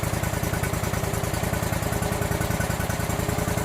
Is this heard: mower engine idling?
yes